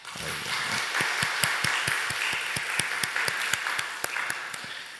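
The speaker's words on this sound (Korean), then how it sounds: "우리 에베네셀 찬양팀 박수 한번 해주자" Church congregation applauding the praise team at a Sunday evening service, steady rhythmic hand clapping in unison with a bright, roomy wash of applause throughout.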